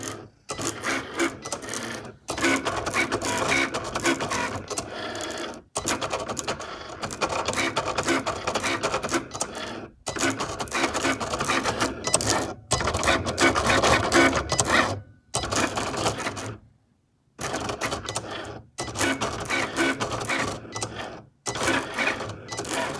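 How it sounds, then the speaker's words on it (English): A vinyl cutting machine cuts heat transfer vinyl for a custom iron-on, its motor whirring and ticking in long busy runs broken by short silent pauses as the blade carriage moves back and forth. "I'm just gonna let my machine find itself and then it's gonna cut"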